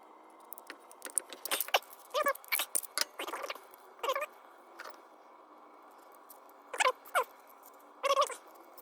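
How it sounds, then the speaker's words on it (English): Tin snips cut the thin tin metal of a RAYO No.100 lantern during restoration, giving close, irregular metallic snips and crunches in short clusters with pauses between, and no talking. "Gives me better space here for this, the tin snip to snip."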